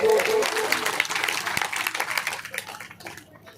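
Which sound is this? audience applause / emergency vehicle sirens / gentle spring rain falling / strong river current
audience applause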